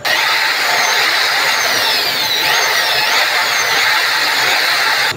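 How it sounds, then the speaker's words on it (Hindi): A drill machine grinds a Suzuki GS 150 engine valve, making a steady, loud, high whining grind that runs without a break and has no talk over it. "ड्रिल मशीन की मदद से मैं ये बाल पहले ग्राइंड करूँगा।"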